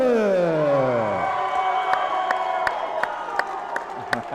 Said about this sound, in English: Make some noise for Sawyer Bartlett.